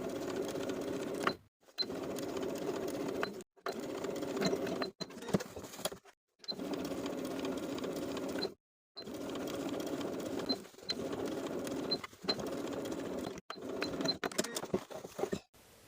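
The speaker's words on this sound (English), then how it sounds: "sewing that facing to the seam allowance underneath with" A sewing machine understitches the facing of a linen shift dress to the seam allowance at an 1/8 inch seam, running in repeated steady bursts of stitching separated by brief pauses, close and clear with no talk.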